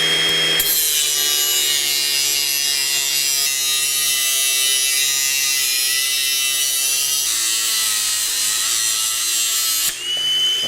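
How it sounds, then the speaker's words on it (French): A small angle grinder with a cutting disc runs continuously through scrap metal, a loud close whine with a steady buzzing drone that holds for about ten seconds before stopping abruptly. "je vais utiliser une petite meuleuse, donc ce qu'on appelle une disqueuse couramment"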